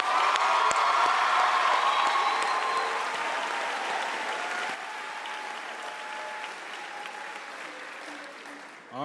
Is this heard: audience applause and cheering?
yes